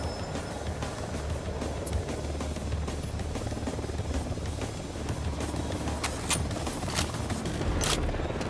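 Helicopter in the video game Ghost Recon Wildlands, a steady rotor and engine drone holding at a constant level, with a few brief sharp bursts near the end.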